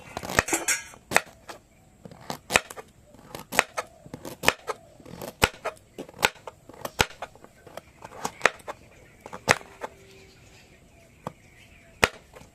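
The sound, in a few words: knife cutting carrots into small pieces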